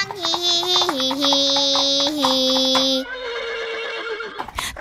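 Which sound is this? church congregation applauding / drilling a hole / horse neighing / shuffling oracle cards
horse neighing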